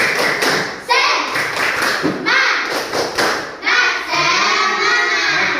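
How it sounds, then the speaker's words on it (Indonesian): Schoolchildren perform a rhythmic spirit clap in class, sharp unison hand claps in patterned bursts mixed with chanted voices, loud and close, with short pauses between phrases. "Tepuk semangat"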